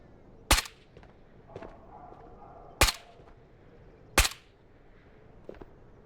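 Gunshots in the video game Escape from Tarkov: three sharp, loud reports spaced a couple of seconds apart, with a fainter distant shot between them, over a quiet game ambience.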